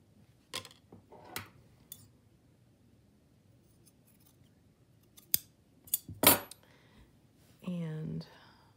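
Scissors snipping a piece of material for a handmade tag: a few separate sharp cuts spread out with quiet gaps between them, then a brief rustle, close and fairly loud.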